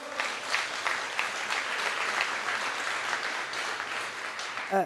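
A conference audience breaks into steady, dense applause, many hands clapping at once in a continuous wash that holds level for several seconds with no speech over it.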